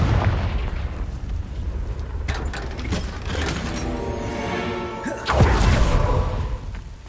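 A Confringo fire spell in the Hogwarts Legacy video game goes off as loud, booming blasts, with a dense low rumble across the clip and a heavier burst near the end.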